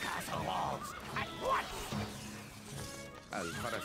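Horse neighing in the video game Stronghold: Crusader, a short whinny heard amid game sounds and a voice speaking in Arabic, with other brief calls and clatter around it.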